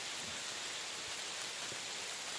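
Rain falling steadily on a campsite along the Appalachian Trail, a dense, even hiss of drops with occasional soft pattering, continuous and fairly close.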